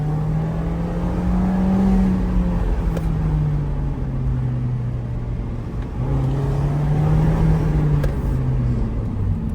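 A 2024 Mazda MX-5 Miata ND3 pulls hard through tight corners, its engine note rising and falling steadily and loudly from inside the car, with no one talking.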